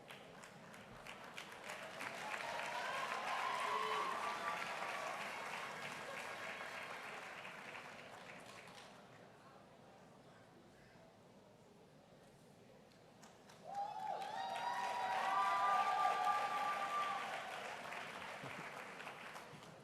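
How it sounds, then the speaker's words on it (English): Graduation ceremony audience applauding in two long waves of clapping and cheering, swelling, fading to a lull, then rising again, with a faint voice in between. "Let's wait because there'll be some cheering"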